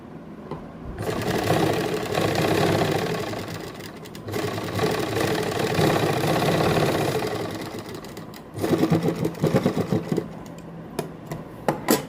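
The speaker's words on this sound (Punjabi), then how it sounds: "ਪਹਿਲਾਂ ਮਸ਼ੀਨ ਖਾਲੀ ਚਲਾਵਾਂਗੇ" A sewing machine runs steadily and loudly while fine pleats are stitched into a ladies' kameez, then slows into uneven, stuttering bursts near the end.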